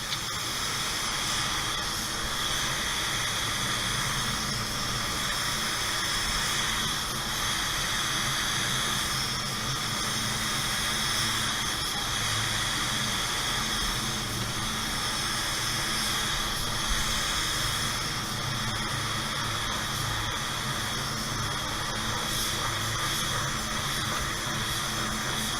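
Spray gun laying base coat onto a used door, a loud, steady hiss of atomized paint and air running continuously up close with only slight swells in intensity.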